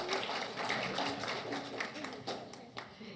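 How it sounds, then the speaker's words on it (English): Congregation applauding during a Simchat Torah synagogue service, steady clapping from many hands throughout with a speaking voice mixed in. "Let's give him a round of applause."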